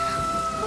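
Rain pours down during a Tamil TV drama scene, a steady broadband hiss filling the brief moment with no clear voice over it.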